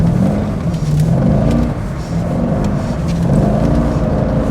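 A stock Corvette C6 V8 holds a loud, steady revving drone while drifting, the pitch rising and falling in waves over several seconds with a brief dip in the middle.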